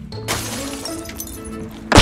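A glass window shatters from a headshot in Rainbow Six Siege, an abrupt crash that gives way to a sustained rattling wash of breaking debris, then a second sharp loud burst at the end.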